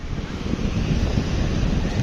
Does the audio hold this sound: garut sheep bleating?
no